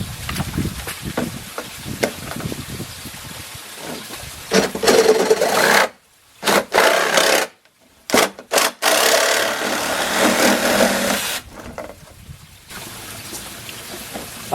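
A section of rain gutter is cut across a marked line with a steady, close rasping saw stroke, broken by a few short pauses and sharp gaps near the middle, with no talking.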